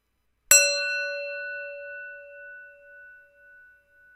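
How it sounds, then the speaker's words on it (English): A single meditation bell struck once, a clear bright strike that rings on with a long, slowly fading tone in otherwise silent surroundings. "listen to the sound of the bell"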